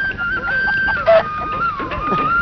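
A chicken clucks in short, close calls with a higher squawk in the middle, loud and without speech.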